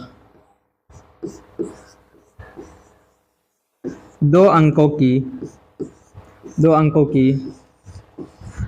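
Chalk or marker scratches on a classroom board in short strokes, moderately close, between and under a teacher's voice giving a maths lesson.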